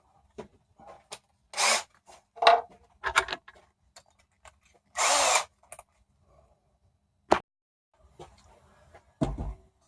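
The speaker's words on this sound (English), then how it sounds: "There's my drill." A power drill whirs in short bursts, a few brief spins separated by clicks and quiet gaps, close by.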